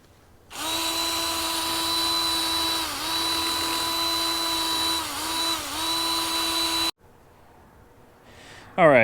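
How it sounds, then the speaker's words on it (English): A power drill whirs steadily for several seconds, its pitch dipping slightly as the spinning wire brush bites into metal on a Chevy Silverado engine, then stops abruptly. "And I use my drill with a wire brush."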